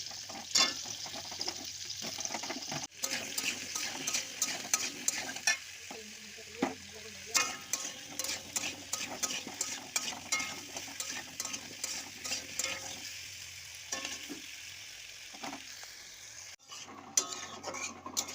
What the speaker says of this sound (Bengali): তো এইদিকে দেখো আমি এখন আলু ভাজছি